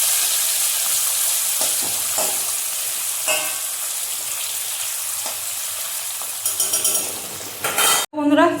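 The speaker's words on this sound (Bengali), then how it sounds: "ভেজে নিই। একটা আলু একটা উচ্ছে আমার জন্য যথেষ্ট।" Potato and bitter gourd slices frying in a pan, a steady hissing sizzle close by with occasional utensil clinks and scrapes, the sizzle swelling louder near the end.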